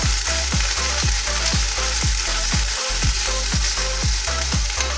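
Tomato sauce, soy sauce and vinegar are stirred together in a hot pan for Maggi Manchurian, a loud steady sizzle broken by regular, evenly spaced stirring strokes.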